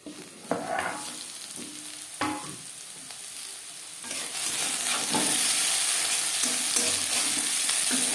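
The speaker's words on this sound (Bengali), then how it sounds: "আলু ভাজবো লো টু মিডিয়াম ফ্লেমে।" Potatoes frying in a covered pan over a low gas flame give a steady soft sizzle, broken by a few clanks as the lid or pan is touched, with the hiss growing louder and fuller midway.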